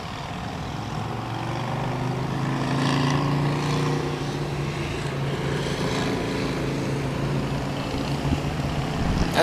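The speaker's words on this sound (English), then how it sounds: "that's a lot of noise with these motorcycles" Steady engine rumble from motorcycles passing nearby, a continuous droning roar with a slight swell in the middle.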